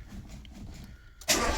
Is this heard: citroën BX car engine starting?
yes